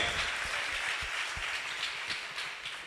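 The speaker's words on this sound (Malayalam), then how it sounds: "എല്ലാവർക്കും വേണ്ടി ഒരു കൈയടിക്കാം." A church congregation claps together in steady, dense applause that carries on evenly throughout, at a moderate distance.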